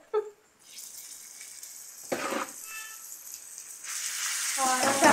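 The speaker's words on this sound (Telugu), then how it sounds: "ఇప్పుడు పచ్చడి వేస్తున్నానండి." Tomato pickle hits a hot pan and sizzles loudly, a bright, steady frying hiss that builds after a few brief clatters and keeps going to the end.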